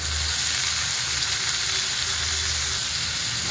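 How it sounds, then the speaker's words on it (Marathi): Tondli (ivy gourd) and potato pieces sizzle in a pan with onion, tomato and spices, making a loud, steady, crackling hiss up close with no talking. "तोंडला आणि बटाटा टाकून घेऊया"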